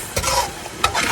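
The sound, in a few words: eggplant stew with garlic and peppers frying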